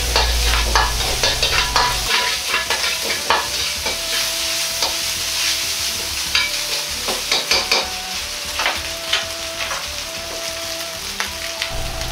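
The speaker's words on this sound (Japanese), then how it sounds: "よく炒めます。" Minced ginger and garlic with a teaspoon of doubanjiang stir-fry noisily in a pan for a pork mince and garlic chive rice bowl, loud continuous sizzling broken by frequent scraping and tossing strokes of the spatula.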